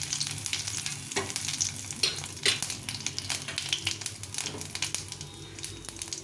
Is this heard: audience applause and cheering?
no